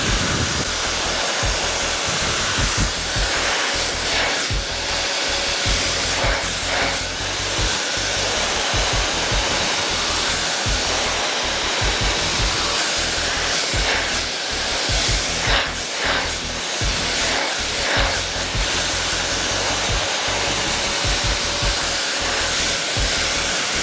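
A hair dryer blows steadily at close range while hair is styled with a brush, a loud continuous whooshing hiss with small rhythmic fluctuations as the brush is worked, and no voices over it.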